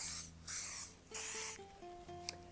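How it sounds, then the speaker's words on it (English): Three hissing bursts of cooking spray onto a 9 by 13 baking pan, close up, with a faint rising musical tone in the background. "Just go ahead and spray that with a cooking spray."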